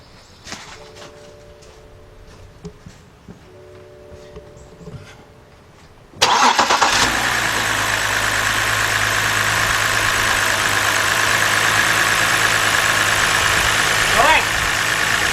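A 2010 BMW 528i 3.0 with a cylinder 4 misfire cranks and catches partway through, then idles loudly and steadily with a rough, uneven undertone. Quiet background noise and faint voices come before the start.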